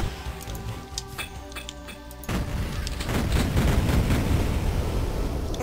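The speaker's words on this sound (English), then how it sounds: "Explosions everywhere." Explosions in Duke Nukem 3D, level E3L1 Raw Meat, with sharp bursts early on, then a dense roar of booms and gunfire-like blasts that swells and stays loud to the end.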